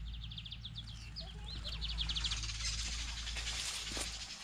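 Small birds chirp and trill in quick repeated bursts around a rural vegetable garden with chayote vines, fairly faint over a steady low background hum.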